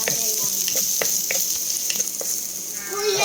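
Garlic and onion sizzle steadily in hot cooking oil, a continuous close frying hiss with a few scattered sharp pops and no talking.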